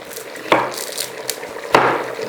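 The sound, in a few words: chopping onions into smaller pieces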